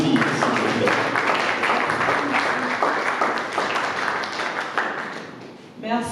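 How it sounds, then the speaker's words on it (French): An audience claps at a film presentation at the Institut Français, a steady dense patter of hands held throughout, with talk running over the clapping before it tapers near the end. "est-ce qu'on peut encore applaudir, s'il vous plaît?"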